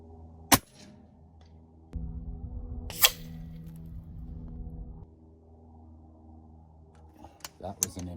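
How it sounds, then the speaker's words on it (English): An AEA Challenger PRO .30 air rifle fires H&N slugs at a board, giving a sharp crack near the start and another a few seconds later, with softer clicks at the end over a low hum and some talk. "So let's go ahead and shoot this board."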